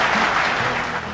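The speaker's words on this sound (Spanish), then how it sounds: "Fuerte el aplauso." An audience claps loudly for a guest being welcomed onto an interview show, a thick, continuous burst of applause that eases slightly toward the end.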